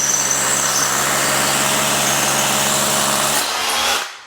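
Power drill boring through a pressure-treated green plate into concrete to set wedge anchors, a loud steady whirring grind lasting about four seconds before spinning down and stopping.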